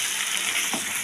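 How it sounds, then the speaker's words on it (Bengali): Chicken coated in spinach paste sizzles steadily in a pan, with a brief soft scrape as the pieces are turned over. "এখন এটা দিয়ে আমি মাংসগুলোকে উল্টে পাল্টে দিলাম"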